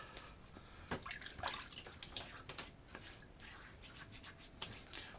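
Water splashed onto a face before a wet shave, soft close splashing and dripping with hand rubbing, quiet and intermittent against a faint background hiss.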